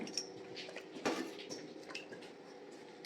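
Vegetables drop into a pot of water, making a soft splash and clatter of produce hitting liquid and metal, followed by faint drips and light knocks in a quiet kitchen.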